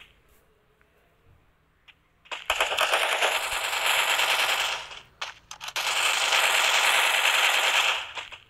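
Automatic gunfire from a shooting video game rattles in two long, loud, sustained bursts separated by a brief pause, with a few faint shots beforehand.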